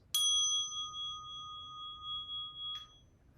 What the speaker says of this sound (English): a handbell, makes a sound like this.